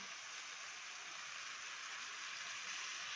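A cup of water is poured over a tray of chicken layered with onions, giving a steady, even splash of running water that stays loud and constant throughout with no talk.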